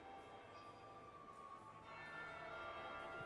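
A bell tolls inside the Dragon Age: Inquisition game world, a steady resonant ring sustained over soft ambient game sound, moderately loud and alone without talk.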